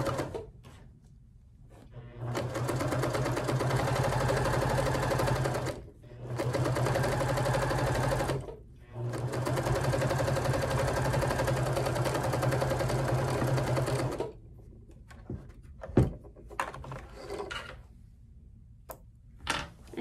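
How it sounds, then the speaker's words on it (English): Sewing machine stitching across the bottom of a tote bag made from a placemat, running in three steady bursts of several seconds each with brief pauses between, then quieter handling clicks and rustles at the end. "I'm gonna sew right across the bottom"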